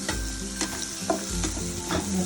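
Ground spices stirred into garlic and potatoes frying in hot oil for a Rajkot-style lasaniya bhungla batata tempering: steady close sizzle with repeated scraping stir strokes, no voices.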